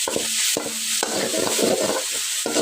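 Red amaranth greens and rohu fish fry with spices in a pan, a spatula stirring and scraping in a regular rhythm over a constant loud sizzle.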